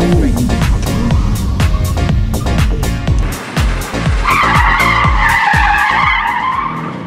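A Porsche 911 4S makes an emergency swerve in a moose test at a Porsche roadshow, its tires squealing loudly and continuously, with engine noise and a high tonal squeal building toward the end, close and intense.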